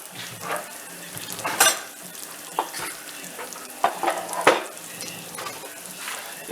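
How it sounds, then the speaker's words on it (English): Rice stirred and toasted in a pan, with a low sizzle under scraping, clinking spoon strokes in an irregular rhythm, close up. "you got to make sure that you move this rice around"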